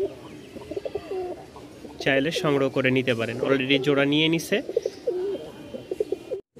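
Pigeons kept for sale coo in low, rolling calls beneath a man's close, continuous speech, which dominates the middle of the clip.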